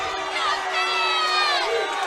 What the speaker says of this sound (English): the Mare Bear fans are making their voices heard